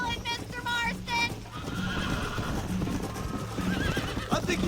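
A horse in Red Dead Redemption whinnies loudly several times over rhythmic galloping hoofbeats, with game music and effects throughout, and a voice speaks briefly near the end.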